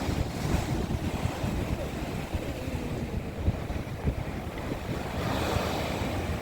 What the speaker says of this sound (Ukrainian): такі неймовірні хвилі і такого гарного кольору море